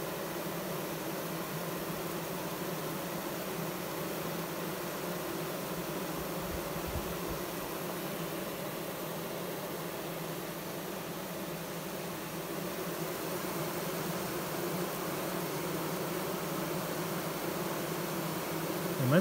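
Honeybees hum steadily at a hive in a sweltering 42°C bee yard, a dense, continuous buzzing swarm close to the microphone with no voices.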